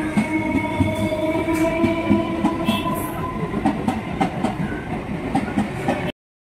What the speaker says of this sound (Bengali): গেল ট্রেনটা একটুখানির জন্য